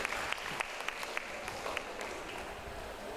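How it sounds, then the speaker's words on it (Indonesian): A faint, steady patter of audience clapping fills a room at the opening of a charity health-check event, with scattered louder individual claps standing out from the soft wash. "tepuk tangan untuk Bu Shirley."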